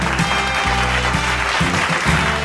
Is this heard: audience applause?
yes